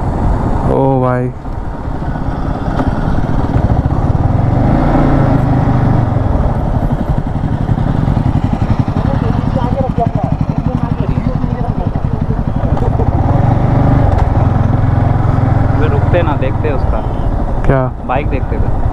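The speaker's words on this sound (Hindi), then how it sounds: "देखो ड्यूक, ड्यूक एडवेंचर, उसके बाद निंजा, सारा बाइक है" Several motorcycles, among them a KTM Duke, Duke Adventure and Kawasaki Ninja, ride past on an Indian road, with loud continuous engine roar, revving and passing whooshes. A rider shouts over the noise.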